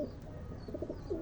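Female pigeon giving a few soft, low coos, faint and close, over a quiet background hum.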